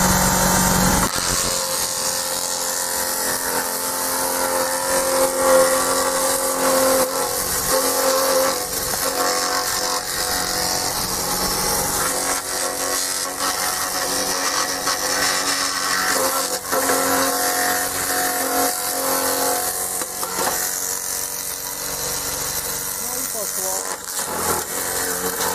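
A garden branch shredder chips thicker branches with a steady, loud, grinding motor roar that runs continuously throughout at close range.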